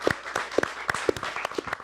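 A small audience claps for a contest winner at a judged event, with a sparse, uneven run of individual hand claps and a few faint voices mixed in.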